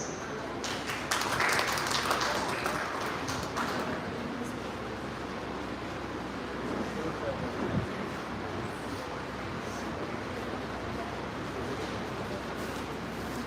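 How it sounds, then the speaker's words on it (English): An audience at a school event applauds to welcome a presenter, a dense steady clapping that stays moderately faint and even, with a few sharper claps early on. "Let's welcome him with a big round of applause."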